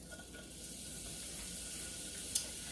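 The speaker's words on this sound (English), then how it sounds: "Going to saute these up." Onions sauté in avocado oil in a skillet with a soft, steady sizzle that stays constant and fairly quiet throughout, broken by one brief clink, with no speech.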